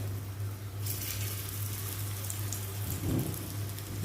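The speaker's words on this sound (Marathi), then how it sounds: "तेल तापत आलं तसं आपण हे केळीची कापा ठेव्या आणि गॅस आता बारीक करूया" Raw banana slices go into hot oil on a tawa and break into a steady, hissing sizzle after a second, with a low electrical hum underneath.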